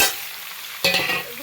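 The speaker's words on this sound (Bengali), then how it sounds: "আমি সবজিটা ভাজতে থাকি।" Vegetables frying in a pan for a fish-head and greens dish, a soft steady sizzle followed by a louder burst of stirring and scraping near the end, close and without talking.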